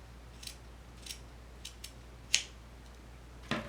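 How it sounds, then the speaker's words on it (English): Scissors snip through plush pattern material in a series of short, crisp cuts, about six snips spaced irregularly, close up and alone in a quiet room. "I'm also going to just trim up the width here"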